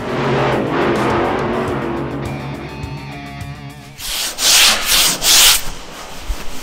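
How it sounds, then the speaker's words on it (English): Steady rough rubbing and scraping of a sanding block across body filler on a car before paint, continuous at first, then several louder, hissing strokes. "it's a lot of block sanding"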